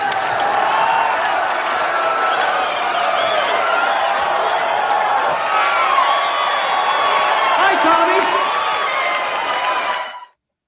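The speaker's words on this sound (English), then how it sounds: "They continue cheering as the master of ceremonies takes the stage" A large auditorium crowd at a science fiction convention cheers and whoops continuously in a radio drama scene, a dense sustained roar of voices that cuts off abruptly at the end.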